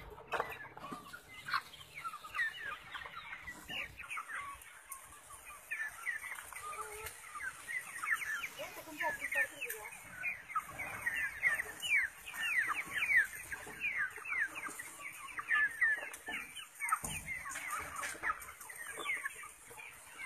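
Native country chickens on a farm cluck and chatter continuously in a busy flock, the calls moderately close and overlapping, with faint background noise and no talking.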